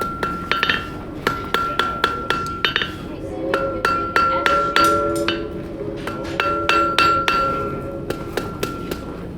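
A blacksmith at a forest discovery centre demonstration hammers cold metal on a sharp anvil, sending out a steady run of loud, ringing strikes at about two per second, with a lingering metallic tone between blows.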